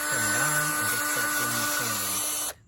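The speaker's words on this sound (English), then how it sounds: "Here's what you're gonna end up doing as far as sanding it" A headlight lens being wet-sanded with a 3M headlight restoration kit on a drill, a loud, steady rotary whine with a grinding hiss that holds for over two seconds before cutting off abruptly.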